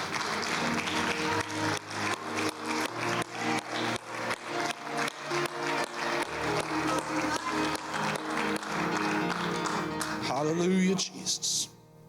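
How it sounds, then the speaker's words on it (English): Church congregation clapping hands in praise during a Wednesday night service, a sustained burst of many rhythmic claps with voices and music mixed in, fading out near the end. "Let's give another hand clap of praise tonight as you're seated."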